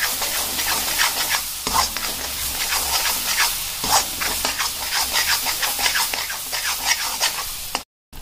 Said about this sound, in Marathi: आता हे पण मी मिक्स करून घेते.